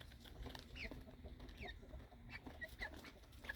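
Small red chickens, including a rooster, cluck softly and intermittently nearby, short scattered calls over a quiet, low background hum.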